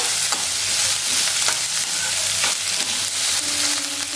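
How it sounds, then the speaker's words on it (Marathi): Vegetables for crispy soya chilli manchurian are stir-fried on a high flame, a loud, dense, continuous sizzle close up with repeated scraping and tossing strokes and a brief hum near the end, no voices. "एक ते दोन मिनटं व्यवस्थित फास्ट फ्लेमवरती या परतून घेऊया"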